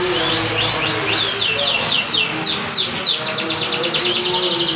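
Songbirds chirp in rapid, repeated bursts of high sweeping notes that run densely and loudly throughout, with a faint background murmur underneath.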